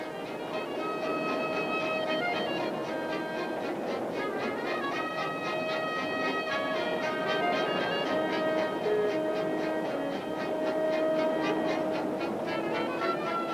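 White Pass and Yukon railroad train rolling steadily along, a continuous loud rumble with a repeating metallic clatter and whining tonal hum, heard alone and close throughout.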